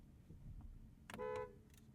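BMW i7 car horn sounding once, a short honk of about a third of a second heard from inside the cabin over low road rumble.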